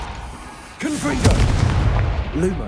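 A spell blast in the Hogwarts Legacy video game bursts out as a sudden booming explosion after a short lull, followed by crackling and ringing effects, with a voice briefly heard.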